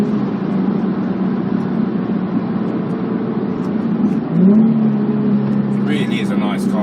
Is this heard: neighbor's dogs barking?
no